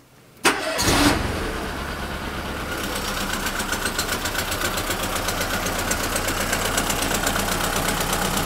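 Car engine cranks and fires with a sharp burst, then settles into a steady, slightly uneven idle during a cylinder misfire check, close and alone without talk.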